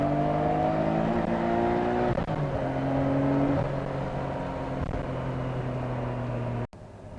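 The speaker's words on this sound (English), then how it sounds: "I'm gonna floor it here in first and go through a couple gears" A Nissan Skyline GTR R32 with a carbon fiber hood accelerates hard through the gears, its engine note rising steadily in pitch and then dropping at each shift, loud and close from inside the car.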